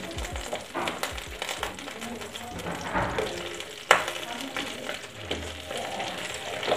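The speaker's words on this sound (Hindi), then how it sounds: "ये देखिए हमारे मिर्ची अच्छी तरीके से कुक हो रहे हैं" Green chillies for pickle sizzle steadily in a pan, with stirring scrapes and one sharp clank of a utensil partway through, all close and continuous.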